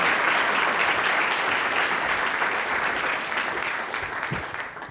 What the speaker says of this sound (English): Let's give a round of applause to all of those volunteer students